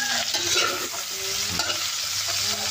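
Chicken with plenty of tomato frying in a pan, a dense nearby sizzle with clattering stir noises and bubbling, steady and unbroken by speech.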